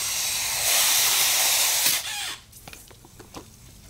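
Water from a garden hose rinses a foam polishing pad, a loud steady hissing spray for about two seconds that then cuts off, leaving faint drips and light splashes close by.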